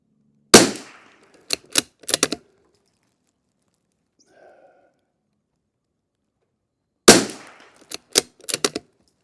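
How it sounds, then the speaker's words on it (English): A Savage Mk II FV rifle fires sharp, loud shots in two groups, each a heavy opening crack followed by a few quicker shots, with near silence between the groups. "This stuff shoots better out of the Tika."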